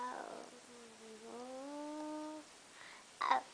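A young child imitates a cat's meow in answer to an animal-sounds question, giving a drawn-out, rising and falling mewing cry followed by a short higher squeak, close and fairly quiet.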